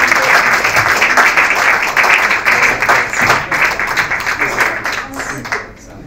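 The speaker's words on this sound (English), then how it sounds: "So please take your applause to Sam Miller." Enthusiastic audience applause at a literary festival session in Jaipur, a loud dense roar of clapping that holds steady and then gradually tapers off near the end.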